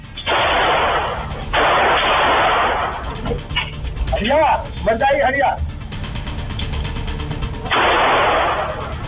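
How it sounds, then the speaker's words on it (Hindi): Pistol gunfire at a club late at night, heard as loud bursts of rapid cracks separated by pauses, with someone speaking over the gaps. "घटना के चलते सुनसान इलाका एकाएक गोलियों की तड़तड़ाहट से थर्रा उठता है।"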